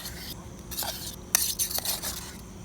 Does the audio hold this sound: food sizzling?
yes